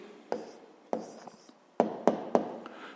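An answer to a 5th-grade math exercise being handwritten with a pen on paper: quiet, close scratchy strokes and several sharp taps, in short bursts of writing without speech.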